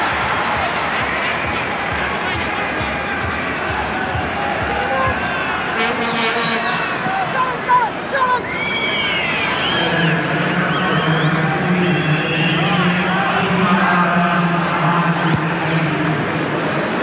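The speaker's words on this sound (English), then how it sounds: "The crowd trying to urge their team on." A football stadium crowd at a 1993 World Cup qualifier between Australia and Canada roars and chants steadily to urge the home team on. A commentator's voice sits over the sustained crowd noise.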